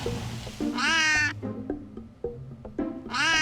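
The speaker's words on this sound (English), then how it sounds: "Kate's next patient is a rescued crow" A rescued crow gives two loud, harsh caws close by, separated by a short pause with a few soft clicks and low background noise.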